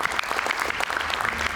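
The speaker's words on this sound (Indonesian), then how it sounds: "Kita berikan tepuk tangan." Studio audience applause on an Indonesian television talk show, a dense steady clapping that fills the short moment, loud and close, with no voices over it.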